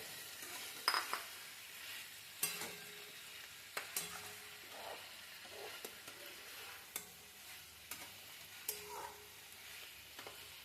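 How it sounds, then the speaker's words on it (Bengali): Fried pointed gourd tipped into a pan and stirred, a soft low sizzle under a string of scattered spatula scrapes and light clinks spaced a second or two apart. "এবার এর মধ্যে ভেজে রাখা পটলগুলো দিয়ে দেব।"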